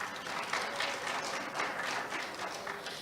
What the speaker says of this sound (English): please, once again, give yourselves a round of applause for being here in person.